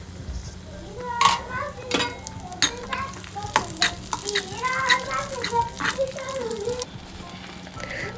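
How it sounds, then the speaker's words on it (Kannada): Cashews and raisins fry in a tablespoon of ghee, giving a close, lively sizzle broken by repeated scraping and clinks of stirring, while a voice talks over it. "ಸೊ 1 ಟೇಬಲ್ ಸ್ಪೂನ್ ತುಪ್ಪ ಹಾಕ್ಕೊಂಡು, ಸೊ ಇಲ್ಲಿ ನಾನು ಕ್ಯಾಶು ಹಾಗೆಯೇ ಅದು ಸ್ವಲ್ಪ ಫ್ರೈ ಆದಮೇಲೆ ಒಂದು ದ್ರಾಕ್ಷಿನೂ ಕೂಡ ಹಾಕ್ಕೊಂಡು ಸ್ವಲ್ಪ ಫ್ರೈ ಮಾಡ್ಕೊತಾ ಇದ್ದೀನಿ."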